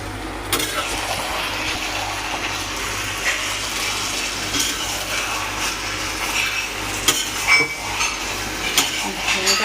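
Food frying in a pan and being stirred with a metal spatula, with repeated scraping and clinking of the utensil against the pan over a soft sizzle, close by.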